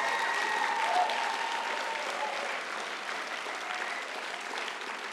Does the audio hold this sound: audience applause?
yes